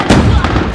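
A flashbang grenade goes off in Call of Duty Mobile: two sharp, loud broadband bursts less than half a second apart, each trailing into a dense rumbling wash.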